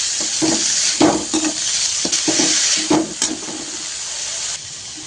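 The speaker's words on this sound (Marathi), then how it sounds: "शेंगा छान परतून घेऊया." Broad beans sautéing in a pan with salt and spices, a steady hiss of frying with repeated scraping stirs at an irregular rhythm, close and fairly loud, no voices.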